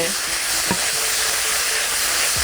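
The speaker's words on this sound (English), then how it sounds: "I'm just going to give it a quick stir" Crispy chili tofu sizzles loudly in a pan while being stirred, a constant intense frying hiss with a few scraping stir sounds, close and continuous.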